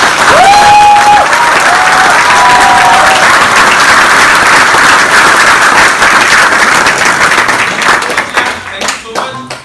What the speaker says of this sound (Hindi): एक बार उनके लिए जोरदार तालियां होनी चाहिए